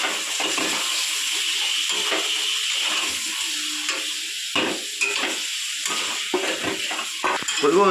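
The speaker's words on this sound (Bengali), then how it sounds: "এবার দেবো চিকেন। তো চিকেনটা দিয়ে আবার একবার কষিয়ে নেব।" Chicken sautéed with spices, turmeric and salt in a pan, sizzling steadily with repeated scraping and stirring strokes close by, and a few faint voices in the background.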